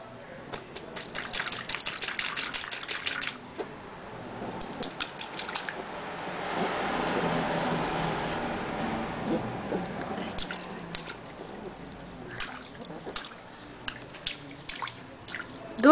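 Water splashing in a backyard swimming pool as a small child kicks, with light irregular drips and patters, a louder stretch of churning splashes in the middle, and quieter sporadic splashes toward the end.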